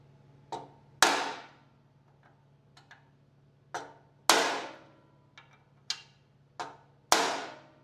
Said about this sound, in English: we're going to transfer punch the holes